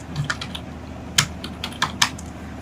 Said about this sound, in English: let me just type the password